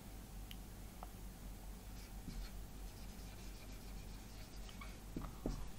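Faint scratching of writing during a tenth-grade math lecture, soft scattered strokes and taps barely above a steady background hiss.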